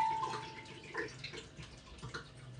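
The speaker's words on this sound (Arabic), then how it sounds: "افضي شوية مية هنا" Water trickles and splashes faintly into a jug for a home-made drink, a soft, uneven pouring sound at close range with no talking.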